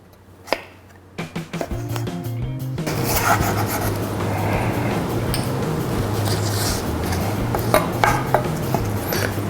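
A knife cuts a vegetable lengthwise on a cutting board, a few sharp taps followed by a steady rubbing, scraping slice that continues close up, with no talking.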